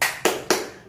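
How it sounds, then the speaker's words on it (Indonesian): Three sharp, evenly spaced hand claps ring out close and alone, as a storyteller leads a children's class in a clapping routine. "anak solih tepuk tangan"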